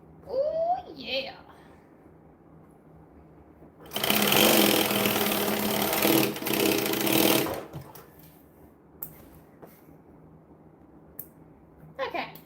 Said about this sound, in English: I'm going to stitch this down like so